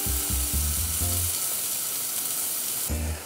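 Marinated pork with zucchini and eggplant pan-fries over medium-low heat, giving a loud, close, constant sizzle with brief low thuds at the start and near the end.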